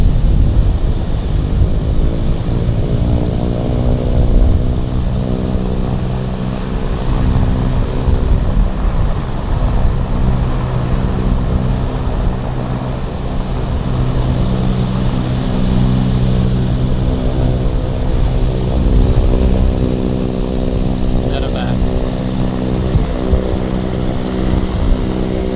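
A Beechcraft King Air medevac turboprop on final approach at Vancouver Airport, its steady propeller drone with layered engine harmonics holding loud and continuous throughout, with no voices.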